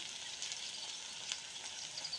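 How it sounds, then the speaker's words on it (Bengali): Chopped onion, cardamom, cinnamon and bay leaf frying in oil in a wok, producing a soft, even sizzle with no other sounds. "কড়াইতে পরিমাণ মতো তেল দিয়েছি, তারপরে পেঁয়াজ কুচি, এলাচি, দারচিনি, তেজপাতা দিয়ে দিলাম।"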